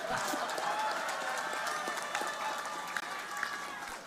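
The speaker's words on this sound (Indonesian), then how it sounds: "Ayo yang belakang tuh tepuk tangan yang keras." An audience claps at an outdoor political speech at a mangrove botanical garden opening in Surabaya, a spread-out, moderately distant crowd applause with scattered sharp claps sustained over several seconds.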